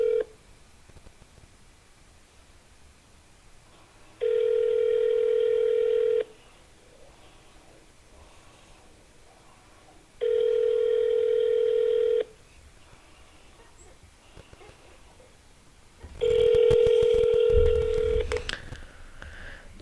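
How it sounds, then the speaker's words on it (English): An outgoing phone call ringing unanswered: three evenly spaced ringback tones, each about two seconds long, separated by quiet gaps, with some rustling handling noise at the end. "Alright, he texted. Time to call."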